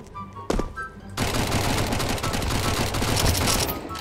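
AK rifle gunfire in the video game Counter-Strike. A single sharp shot is followed about a second later by a loud, sustained automatic burst that runs to the end, with no talking over it.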